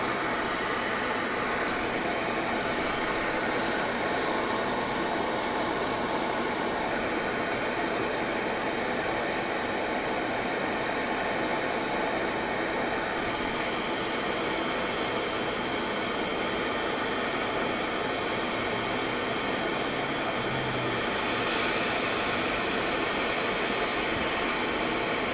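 Hot-air rework station with its spindle and suction running, giving a steady, loud hiss of rushing air that holds unbroken and alone throughout.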